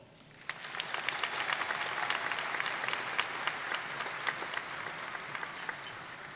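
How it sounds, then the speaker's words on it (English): A high school graduation audience breaks into sustained, dense applause that starts abruptly and holds steady, a large crowd clapping close and loud without talk. "Let's have a round of applause for you all."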